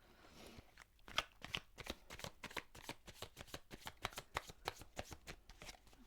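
Tarot cards are shuffled by hand in a quiet room, a fast series of crisp riffling snaps and flutters repeating close and fairly soft, with no talking.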